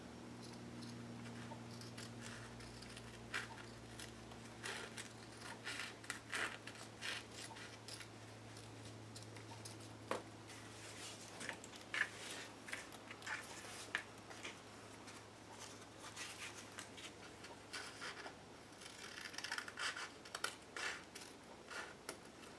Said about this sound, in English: Now, not my fabric scissors, but my regular scissors, I'm going to go back in here and I'm going to trim off that bad edge.